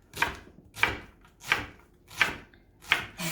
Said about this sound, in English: there's one, almost two onions chopped